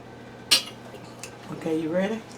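Serving macaroni and cheese taco bake into a dish: a sharp utensil clank against the pan, then softer scraping and scooping, with a voice talking quietly near the end.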